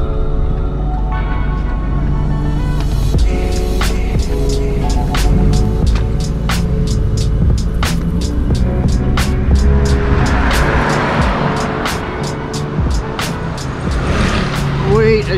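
A car engine left running outside a bank in Laos, heard as a loud, steady idling rumble close by with repeated clicks and faint traffic, under someone talking throughout.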